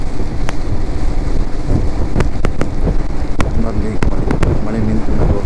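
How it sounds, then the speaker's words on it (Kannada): Steady rain pours down during a monsoon ride from Hubli to Thamini Ghat, a dense wash of drops with wind rush, joined by scattered sharp ticks of drops striking the windshield. "ಮತ್ತೆ ಮಳೆ ಬಂತಿದ್ದೆ"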